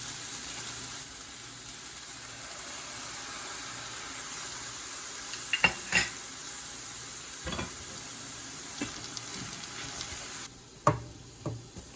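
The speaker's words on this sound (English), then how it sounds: "So now we add in those 4 sauces again, 1 tablespoon each, and we'll mix everything really well." Vegetables stir-fried with sauces for Indo-Chinese street-style Hakka noodles: a steady sizzle and hiss from the pan runs throughout, broken by a few sharp clanks of the utensil against the wok, with no talking.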